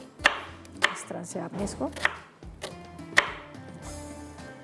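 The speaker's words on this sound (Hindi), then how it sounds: "तो यहाँ पर ले लेती हूँ मैं नाइफ़ को, बस ऐसे ही मोटा मोटा आप काट के डाल दीजिएगा।" A knife chops ingredients coarsely for beef balls on a board, several sharp, evenly spaced thwacks with quieter cutting between them, close up while someone talks.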